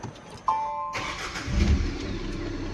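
A Tata Curvv diesel car engine cranks and catches at close range, settling into a steady, low idle rumble with a brief rise in revs. No one speaks over it.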